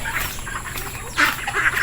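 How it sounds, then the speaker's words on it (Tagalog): Ducks quack in a few short bursts, fairly close, over a steady outdoor background with no talking. "itong mga pato niya oh"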